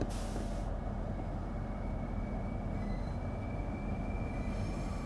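A Class 465 electric train pulls away, a constant rolling rumble of wheels and traction with a thin high whine and faint squeal running throughout, steady and fairly close with no talking.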